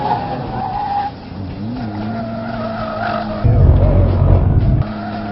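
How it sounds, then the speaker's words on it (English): A race car on a track brakes hard after running at full throttle, its engine whining and dropping before a loud tire squeal and skid erupts midway, then fades back to engine drone. "And I'm going to brake hard here."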